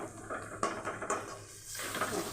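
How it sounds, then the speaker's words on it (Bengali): Masala spices, including red chili powder, fry in a pan for chicken kosa: a soft sizzle under a few metal clinks and stirring scrapes of utensil against pan, close by. "এটা একটু ভেজে নেব মশলাটা"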